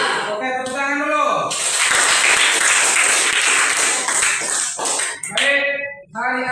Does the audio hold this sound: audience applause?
yes